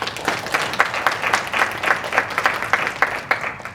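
A crowd applauds with dense, brisk clapping that holds steady for a few seconds, fairly close and moderately loud.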